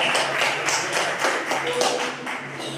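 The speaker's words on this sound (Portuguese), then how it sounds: "Palmas para o nosso Jesus. Palmas para Ele." Church congregation clapping for Jesus, a steady series of rhythmic hand claps at an even pace, fairly close and loud, with a faint voice beneath.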